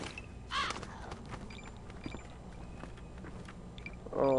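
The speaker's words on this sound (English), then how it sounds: "Jesus, tell me those are all crows." Crows caw in a dark outdoor area in the video game Zombi, several scattered harsh caws at moderate distance over a low, rumbling ambient background.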